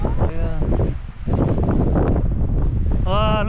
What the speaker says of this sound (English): The wind start to pick up.